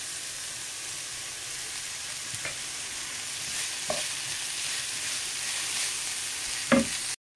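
Prawns sizzle and fry steadily in a pan with tamarind water, a dry Goan prawn kismol being stirred, with a few brief scraping clinks of a spoon against the pan near the end.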